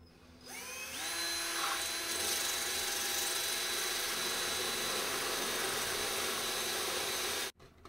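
A power drill with a 3/4 inch bit spins up and bores a hole, a steady close whine that holds for several seconds before cutting off abruptly.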